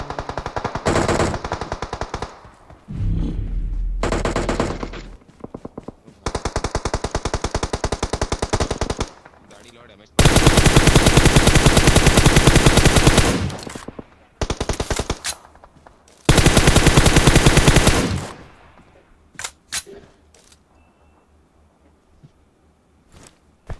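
Long bursts of rapid automatic gunfire in a video game, loud and close, separated by short pauses, then a few scattered single shots fading out.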